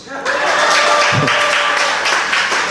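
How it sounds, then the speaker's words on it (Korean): Church congregation applauding during an afternoon worship sermon, a sustained broadband wash of clapping filling the room for a few seconds under a lively crowd murmur. "박수 한번 치시고"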